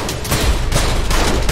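Gunfire in the Trepang² shooter game, a loud, dense burst of rapid shots that blur into one continuous roar through the whole moment, with no clear gaps and no voices.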